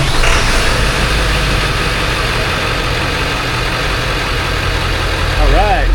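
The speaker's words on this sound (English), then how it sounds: "Starting the engine." A diesel engine with glow plugs idles steadily and loudly close by, a low rough rumble throughout with people talking over it.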